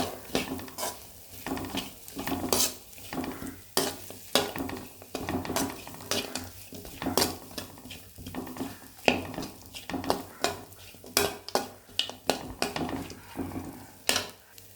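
Precooked rice being stirred into a pan with egg and pepper makes rhythmic scraping strokes of a spoon against metal, regular and close, over a soft sizzle with occasional clinks.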